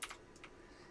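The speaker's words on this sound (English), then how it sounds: "I do apologize for all the clicking, but that is what I get for having a mechanical keyboard." Key clicks from a mechanical computer keyboard during typing, a few crisp close strokes near the start and another pair midway, over a faint steady background hum.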